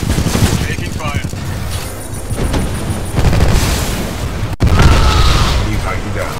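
Heavy gunfire and booming blasts from a Titanfall 2 campaign battle between a pilot and a Militia Titan, loud and dense with bursts and impacts, under radio voices.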